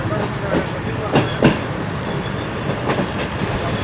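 The Karakoram Express runs on its rails with a steady rumble and rolling noise, and a few sharp clacks of wheels passing rail joints come through clearly.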